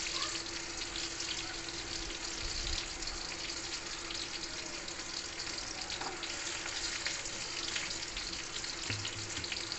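Ash gourd fries in a wok with a soft, even hiss of oil that runs continuously and fairly quietly for about ten seconds, with faint bubbling and no voices.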